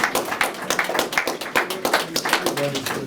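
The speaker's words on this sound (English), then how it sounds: "could we have a good round of applause and a thank you." Veterans Day crowd at a museum gathering claps for standing veterans, lively uneven claps from many people, close and loud, with a few voices murmuring underneath.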